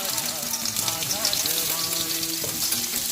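Chopped onion sizzles and crackles in hot mustard oil for a ghugni with kabuli chickpeas and potato, a dense steady frying hiss with faint background music and no talk.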